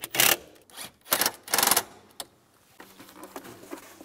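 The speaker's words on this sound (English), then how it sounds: "Tighten the bolt down and tighten down the screws." Hand tightening of a bolt and screws on a Volkswagen Beetle blower motor: a few short, loud ratcheting bursts close by, then softer fiddly clicks and rattles.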